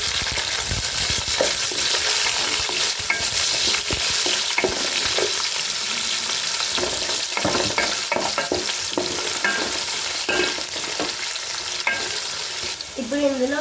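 Onions and green chillies fry with whole spices such as shahi jeera, cinnamon, cloves, cardamom and dried red chillies, giving a loud continuous sizzle with frequent stirring scrapes close by.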